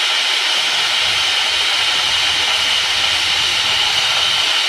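A pressure cooker holding chicken for pulao releases steam as it is opened, giving a loud, continuous, even hiss that stays close and steady throughout without any break.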